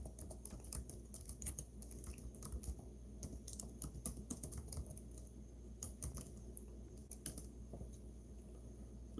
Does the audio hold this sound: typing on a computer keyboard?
yes